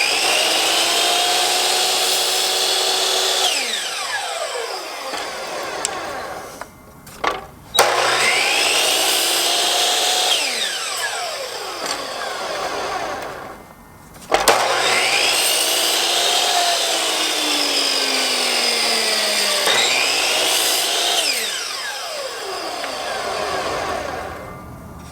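A power tool cutting a wooden dowel into pieces. Three long, loud whining cuts rise and fall in pitch, each lasting several seconds, with brief pauses and small clunks between them.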